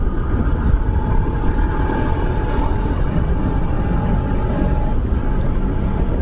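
A Yamaha RS 200 motorcycle running on an open road, a loud, continuous engine drone with a faint steady whine, close and without speech.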